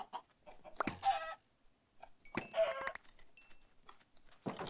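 Chickens in the survival video game Forever Stranded, several close clucks and squawks in short uneven bursts, with quiet gaps between calls.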